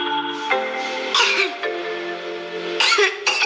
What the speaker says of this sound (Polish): Kaszel może być suchy lub mokry.